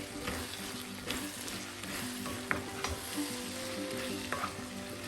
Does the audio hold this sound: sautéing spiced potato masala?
yes